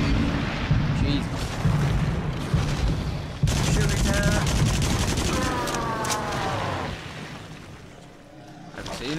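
Gunfire in the VR shooter game Until Dawn: Rush of Blood, a rapid fusillade of loud shots over booming, rumbling game sound that stops abruptly partway through, followed by a quieter stretch of mechanical noise.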